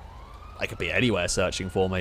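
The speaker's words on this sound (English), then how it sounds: "I keep hearing sirens as well" A siren wailing in the video game GTA 5, a rising tone faintly audible at first and then continuing under someone talking over it.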